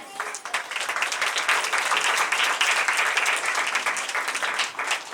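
A worship congregation claps steadily and loudly for the whole stretch, a dense wash of hands with no pause.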